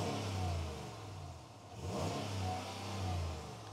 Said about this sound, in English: I'm finna see if I can let y'all hear the pipes, because I ain't really never just revved it like that